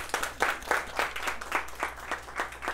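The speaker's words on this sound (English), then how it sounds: "Give everybody a round of applause." Classroom applause for students: a modest, uneven round of clapping from a small group, with individual claps audible in a loose rhythm at moderate volume over a low steady hum.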